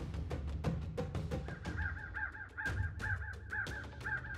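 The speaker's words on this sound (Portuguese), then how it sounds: "quebrado apenas pelo vento e pelo canto ocasional de um corvo" A crow caws repeatedly in Big Bend's desert along the Rio Grande floodplain, a steady run of harsh calls at an even rhythm, fairly close and clear over faint ambient background.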